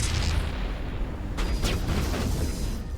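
A grenade explodes during Mass Effect gameplay, heard as a loud, dense blast with a rumbling, sustained roar that swells midway, set among continuous battle noise.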